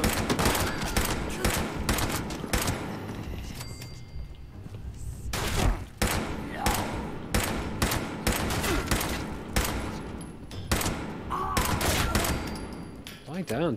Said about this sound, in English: Angry turrets in there.